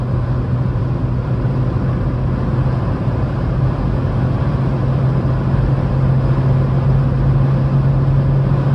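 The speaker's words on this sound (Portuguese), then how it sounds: "Você vê os ruídos de vento aqui numa velocidade dessas, é mais a conta do teto solar aberto" Steady rushing wind noise fills a moving Volkswagen Golf's cabin through an open sunroof, with a low engine hum underneath at constant cruising speed.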